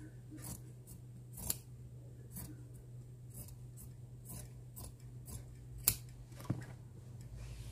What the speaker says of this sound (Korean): 이렇게 잘라줍니다. 시접을.